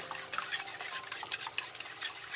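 Beaten eggs hiss in a frying pan for Moroccan pastilla as a utensil stirs them, producing a dense, close crackle with rapid light scrapes and taps.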